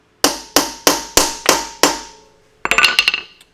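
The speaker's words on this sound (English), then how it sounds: "give the end of the screwdriver a little tap" Six crisp hammer blows land on the end of a screwdriver seated in a stubborn screw, evenly spaced and ringing, followed by a quick rattling scrape as the screwdriver turns the loosened screw.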